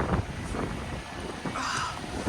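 Cold wind gusting outdoors in a parking lot during a winter storm, a steady rushing buffet of air with microphone rumble, loud and close.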